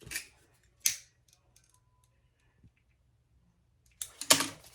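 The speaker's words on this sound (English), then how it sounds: "Now she says to trim your zipper ends." Fabric scissors trimming the zipper ends on a sewn sling bag, a few sharp close snips at the start and end with quiet between them.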